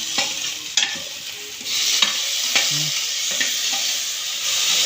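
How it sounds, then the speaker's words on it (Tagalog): Sea shells sautéing in a pan with papaya and tomato, a steady close sizzle with occasional scrapes and clinks of stirring, loud and without speech. "Ginigisa niya."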